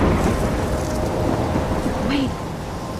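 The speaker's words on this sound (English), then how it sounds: "I'm trapped in a storm?" A heavy thunderstorm in the Life is Strange video game pours steady rain with a deep continuous thunder rumble, dense and loud throughout.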